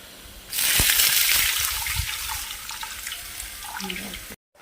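Water pours and splashes into a pan of egg curry, a sudden rushing gush that tapers into gentle trickling and ends abruptly.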